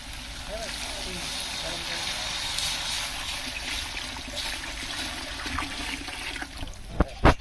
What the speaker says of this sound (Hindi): अब पानी डालेंगे।